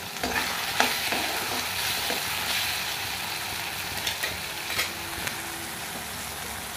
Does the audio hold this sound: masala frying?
yes